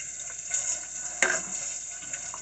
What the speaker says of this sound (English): Wash my fingers off before I touch anything.